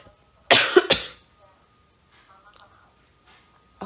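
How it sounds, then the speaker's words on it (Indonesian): Two sharp, loud coughs in quick succession from a person indoors, followed by near silence with faint background murmurs. "Sekarang ada yang batuk anjing"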